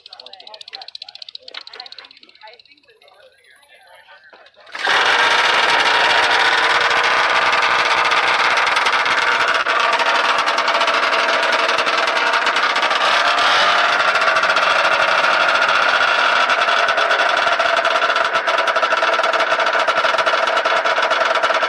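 A vintage snowmobile engine catches after a few seconds of quieter handling and talk, then runs loud and steady with a buzzy, rattling two-stroke clatter close by for the rest of the clip.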